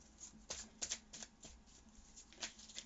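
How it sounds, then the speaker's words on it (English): Close, quiet riffling and snapping of a deck of tarot cards being shuffled, in several quick bursts. "we're going to go ahead and shuffle the deck"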